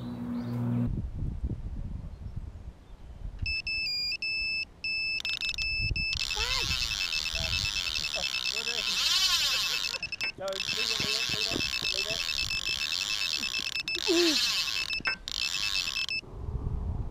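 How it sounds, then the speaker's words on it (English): Carpinion New Direction carp fishing bite alarms sound repeatedly in loud, steady electronic beeping tones that run almost continuously, with pauses and restarts, over outdoor background noise and occasional bird or duck calls. "you'll be able to see exactly how the alarms react"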